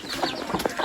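Chickens and chicks cluck and peep close by in a short, busy burst of soft calls.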